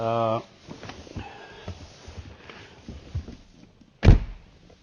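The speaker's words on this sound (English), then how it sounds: "listen to the door close" A 2016 Mercedes-AMG GT S door shuts with a single solid thunk near the end, after a brief tone and quiet rustling.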